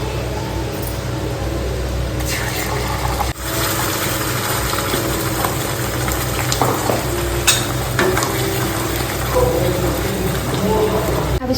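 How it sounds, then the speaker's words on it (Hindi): Masala sizzles steadily in a hot butter tadka for matar paneer, a continuous dense frying hiss with a few brief stirring clinks, close and fairly loud with no voices over it. "यहाँ पे तड़का लग रहा है बटर के अंदर। अब इसमें जाएगा मसाला"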